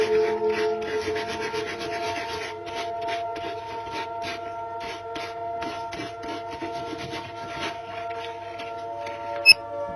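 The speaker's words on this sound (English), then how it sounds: "Just giving it a bit of a sand all over now." Steady back-and-forth hand rubbing of sandpaper on a wooden key holder, close and continuous, over a constant tonal hum, with a brief sharp knock near the end.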